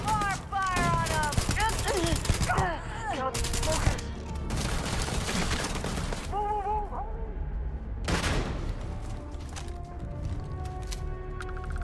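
Rapid, dense gunfire in the space RPG Starfield during a heist: bursts of shots with pauses between them, close and loud, mixed with game tones and chirps and an excited voice talking.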